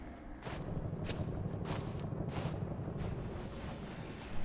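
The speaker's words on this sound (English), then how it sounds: "Mortars on the right." Mortar fire in the video game Dead Island 2, a steady rumbling barrage of booms and thuds that pulse several times over a dense, noisy background with no voices.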